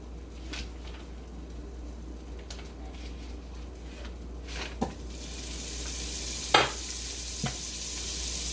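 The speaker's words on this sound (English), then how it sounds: "Melt our butter in here." Butter melts in a pot with a soft, steady sizzle that grows fuller toward the end, broken by a few sharp scrapes and clanks of a utensil against the pot.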